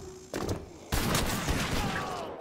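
Shotgun blasts in the video game Wolfenstein: The Old Blood, two loud sudden booms in quick succession, the second followed by a sustained roaring gunfire wash, close and dense, with no voices.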